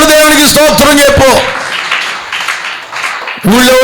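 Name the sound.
church congregation clapping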